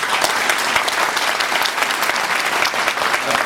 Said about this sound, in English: let's save the applause for the end